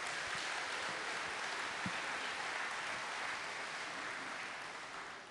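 An audience claps for the Diablo 3 developers at a presentation, a dense, sustained wash of applause from a large crowd that holds steady and then begins to fade out near the end.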